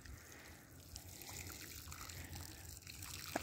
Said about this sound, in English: I boiled some hot water to put into the bird bath